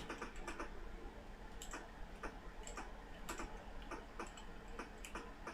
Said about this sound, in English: Can you hear the keyboard clicking?